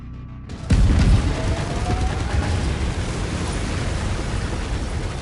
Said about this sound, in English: I've mapped the autocannon to Weapon Group 1. You're free to fire whenever you're ready.